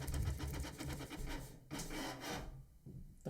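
A printer runs nearby with a quiet, rhythmic mechanical rubbing and whirring that pulses in quick repeated strokes, then pauses and resumes.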